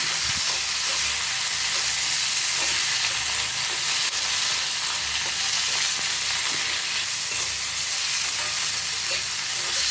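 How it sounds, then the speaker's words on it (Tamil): Tomatoes and onions sautéing together in a pan for keerai thokku, a loud, dense hissing sizzle that holds steady for the whole stretch, with faint stirring and no speech. "தக்காளியை போட்டுப்போம். தக்காளியும் வதங்கணும்."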